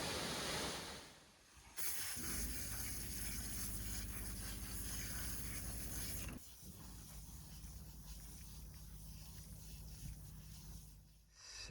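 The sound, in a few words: Catrigg waterfall in the Yorkshire Dales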